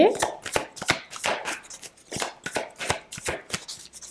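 Oracle cards are shuffled by hand in quick rhythmic bursts, a dozen or so crisp riffling swishes close to the listener.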